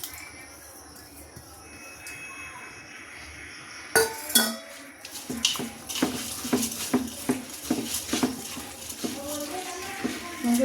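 A metal utensil mixes cooked khichuri with a little meat gravy in a pot, first quiet, then a run of sharp, irregular clinks and scrapes close by, with a person talking over parts of it.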